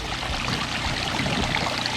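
Well water pumped out of a newly drilled house well gushes and splashes continuously at close range, a loud, even rushing flow with no voices.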